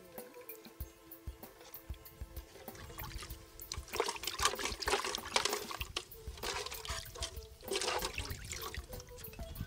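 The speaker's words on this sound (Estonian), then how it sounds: "Siis võid siia sisse ära loputada käed." Water runs and splashes as hands are rinsed in a spa basin after a wild mango body scrub, with steady trickling and bursts of louder splashing, no talking.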